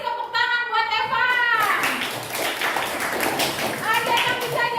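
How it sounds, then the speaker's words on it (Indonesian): Children applauding a classmate in a classroom lesson, a burst of quick claps and taps that swells then tapers, with a voice and teacher speech heard around it. "Kasih tepuk tangan buat Eva"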